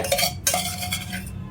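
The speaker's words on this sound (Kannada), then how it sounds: "ಸ್ಟವ್ ಹಚ್ಕೊಂಡು ಈ ಬಾಣಲೆ ಇಟ್ಕೊಡ್ತಾ ಇದ್ದೀನಿ" A metal kadai is set down on a kitchen stove for making amla jam, giving a couple of close, sharp clanks and a brief metallic scrape.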